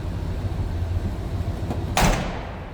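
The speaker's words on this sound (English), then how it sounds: "door closes nicely" A 1973 Chevrolet C10 Fleetside truck door shuts with a single firm thunk near the end, following a few seconds of steady low background rumble.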